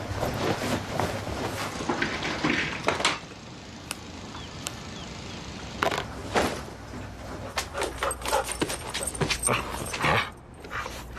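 A dog barks in short, scattered bursts and whimpers over a busy mechanical background with clanks and sliding noises.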